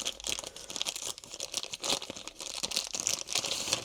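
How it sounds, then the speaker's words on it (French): Continuous crinkling and tearing of plastic and paper packaging as Nintendo Switch 2 Joy-Con controllers are unwrapped, close and busy with irregular rustles throughout. "on va déjà déballer des Joy-Con"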